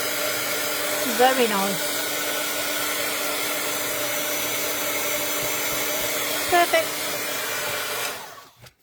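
A craft heat tool blows steadily, drying colour on a project with a loud continuous whooshing hum that runs for several seconds, while a voice briefly speaks over it, then cuts off at the end.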